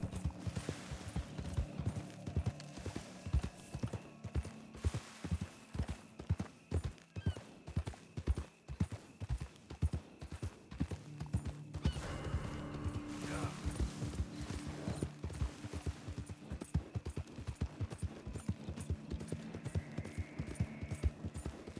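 Horse hooves clip-clop and gallop in Red Dead Redemption 2, a steady rapid rhythm of close, fairly loud hoofbeats running the whole time, with brief mechanical creaks and a snort-like whinny mixed in.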